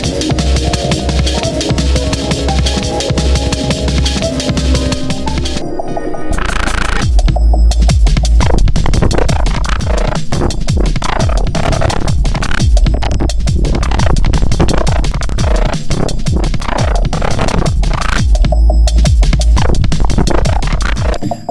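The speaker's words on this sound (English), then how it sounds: "Let me show you a rip bass in context." A gritty, growling rip bass synth patch built in FM8 drives a loud, dense jungle-style track, with rapid breakbeat drums and the bass pulsing steadily throughout.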